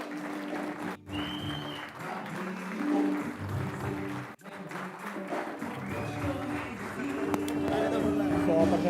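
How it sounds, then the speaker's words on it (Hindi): Audience at a Vestige anniversary event applauds for Mr. Kanwarvir Singh, sustained clapping that dips briefly twice and then builds louder toward the end. "तो मैं चाहूंगा एक बार जोरदार तालियां फॉर मिस्टर कंवरवीर सिंह"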